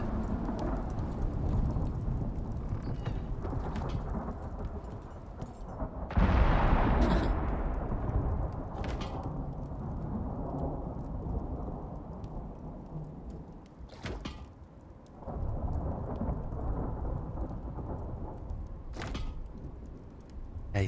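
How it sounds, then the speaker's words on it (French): Thunderstorm with rain in the survival video game Icarus: steady rain hiss broken by a sharp close thunderclap and several fainter rumbles and cracks spread across the stretch. "Méchante tempête."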